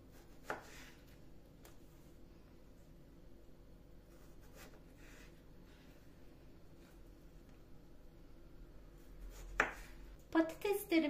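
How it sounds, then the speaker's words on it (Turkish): Potatoes are cut into wedges on a kitchen board, with sparse, quiet knife taps spread across the stretch and a quick, louder cluster of chops near the end, while someone talks over the work. "Bu şekilde bütün patateslerimize elma dilimi şeklini verelim."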